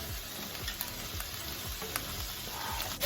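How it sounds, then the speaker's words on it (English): Drained ground beef and garlic fry in a pan, a steady bright sizzle with occasional scraping stirs, close and continuous, no talking. "I've just drained the ground beef, and now I'm going to add about 2 cloves of garlic"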